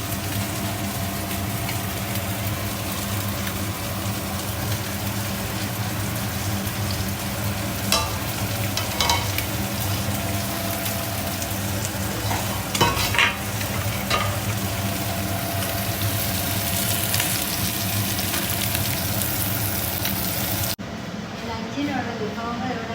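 A pan of fish curry sizzles steadily while it is stirred, with a continuous frying hiss and occasional scraping clinks over a low background hum. Faint voices are heard, and the sizzle drops away near the end.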